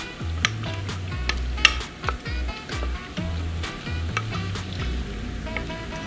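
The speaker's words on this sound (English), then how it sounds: "Give that a stir." A fish marinade with grapefruit, cilantro and jalapeno being stirred, with repeated wet sloshing and scraping strokes in an uneven rhythm, close and fairly quiet with small clicks between.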